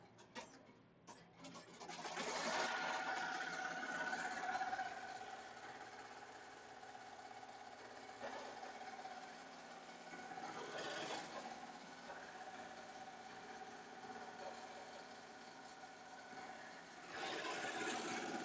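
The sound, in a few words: Melco Summit embroidery machine stitching backing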